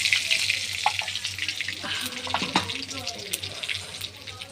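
Whole cumin seeds and a bay leaf sizzle in hot oil, a bright steady hiss with scattered crackles and pops that fades slightly toward the end.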